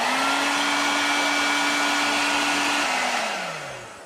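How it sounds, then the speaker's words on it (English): Hair dryer warming a wind restrictor panel on a C7 Corvette convertible: a loud, steady whining blow with a constant tone, running alone before the motor pitch drops and the sound fades as it is switched off. "we're going to heat this up with a hair dryer"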